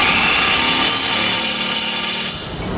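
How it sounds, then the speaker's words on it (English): A power drill with a 1/2-inch bit enlarges a hole in a Roadmaster base plate on a 2020 Jeep Wrangler frame, a loud steady whine and grind that eases off near the end. "Our instructions say to enlarge this hole here and this hole here with a 1/2-inch drill bit."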